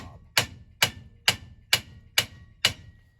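Six sharp, evenly spaced hammer blows ring out alone, peening over the end of a wooden tenon to rivet it into its mortise, each strike crisp and close with a short decaying ring.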